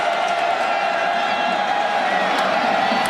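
A large football stadium crowd at Beaver Stadium roars and applauds in a loud, steady wash of cheering with scattered whoops, filling the whole moment without a break.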